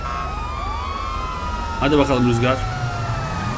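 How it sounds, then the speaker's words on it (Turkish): A police siren wails from a Kayserispor team bus convoy in GTA 5 on a rainy day, its tones sweeping up and down steadily throughout, while someone speaks briefly in the middle. "Sirenleri açıyor"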